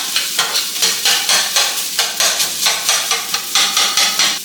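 Cooked rice being stirred and reheated in a frying pan, with panko breadcrumbs and two eggs mixed in, gives a steady, close, rhythmic scraping and sizzling with regular spatula strokes throughout and no talk.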